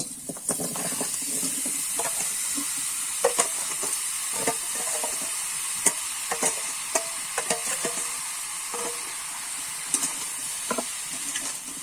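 Olive pickle with sugar is stirred slowly in a wok over low heat: a steady soft sizzle and hiss runs throughout, broken by scattered scrapes and light clinks of the spatula, close and continuous, with no voices.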